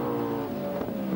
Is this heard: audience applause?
no